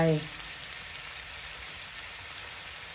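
Fingerroot stir-fried over lowered heat in a pan for crispy fried catfish, a steady close hiss of sizzling oil filling the clip after a brief voice at the very start.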